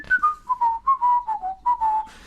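One person whistles a short, bright tune close by, a run of separate notes that slowly step downward in pitch, with brief gaps between phrases and no talk.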